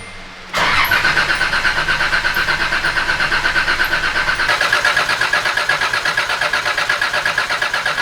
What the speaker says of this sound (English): we're going to try cranking again